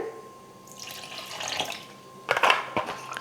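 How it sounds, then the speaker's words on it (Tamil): Water trickles and splashes into a grinder jar of instant dosa batter with curd, a soft intermittent pour with a brief louder splashing burst near the end, no talking. "கொஞ்சமாக தண்ணி சேர்த்துக்கிறேன்."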